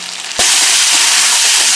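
A paste of cashews, raisins, nuts and poppy seeds hits hot oil with a sudden loud burst of sizzling, then a steady, close, intense frying hiss continues, with no talking.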